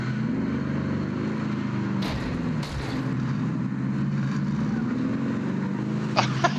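A car in the Warzone video game: a steady, low engine drone runs throughout with a couple of faint knocks partway through and brief higher clicks near the end.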